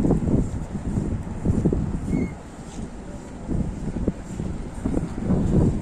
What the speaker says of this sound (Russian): И такой этот ветер ледяной